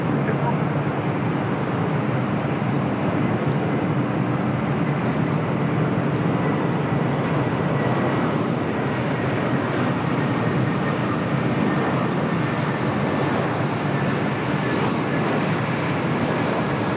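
A Sun Country Airlines Boeing 737-800 at LAX makes a steady broadband jet rumble, constant and moderately loud throughout, with faint thin whines riding over it.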